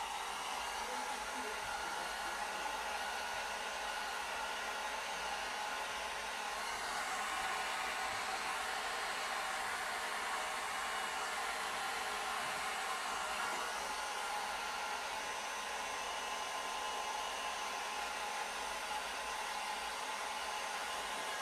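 A hair dryer runs in a steady, unbroken roar for the whole stretch, blowing on alcohol ink laid over aluminum, loud and close with no talking.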